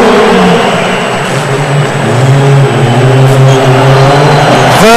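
A Group B rally car at Rally Portugal 2007 revs hard and accelerates close by, pitch climbing through several gear changes, then a sharp rising whine at the end.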